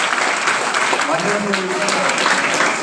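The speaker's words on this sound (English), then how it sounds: "So please give a big round of applause." Audience applause at a Charan's PU college event with an inspirational guest visit, steady clapping throughout while a voice speaks briefly over it.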